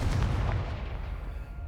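A Confringo blasting spell explodes in Hogwarts Legacy, giving a deep, rumbling boom that hits at once and then slowly fades into a low roar.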